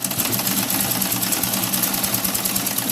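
A sewing machine stitches an inseam side pocket, running continuously at a fast, even rhythm, close and fairly loud.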